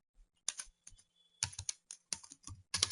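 Code is typed on a computer keyboard in short, crisp bursts of close keystrokes, separated by brief silent gaps.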